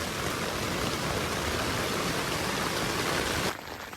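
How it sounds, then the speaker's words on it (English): Steady rain hisses as a dense, even wash of noise, close and fairly loud, easing slightly near the end. "so it's still raining"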